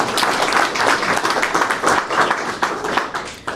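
Audience applause at a Chicago civic event on community development grants, steady dense clapping filling the whole stretch at moderate loudness with no clear voice over it.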